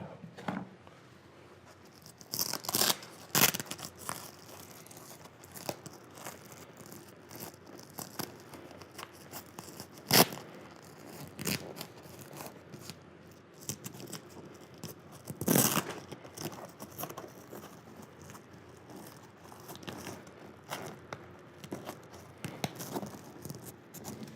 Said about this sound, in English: I'll cut my hole back open so I can see the screw hole